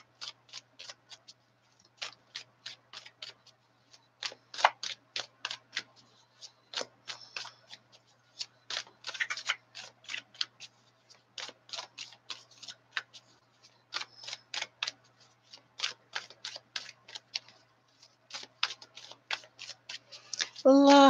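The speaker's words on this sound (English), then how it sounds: "It took me a while to quit shuffling there." Tarot cards are shuffled in quick riffling bursts of crisp flicks and snaps, repeating in irregular clusters over about twenty seconds, close and fairly quiet.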